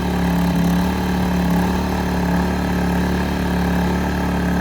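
Champion 2000 inverter generator for RV camping idling steadily in economy mode, a constant low engine hum with a fixed tonal drone, close by and unbroken, with no talking.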